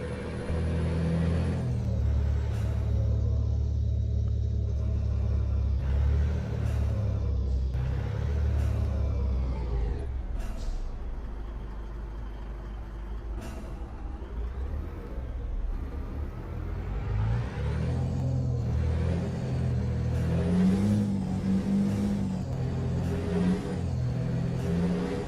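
PACCAR truck engine in Euro Truck Simulator 2 on a drive near Paris, a steady low diesel drone that rises and falls through the rev range, loud and continuous throughout with speech faintly under it.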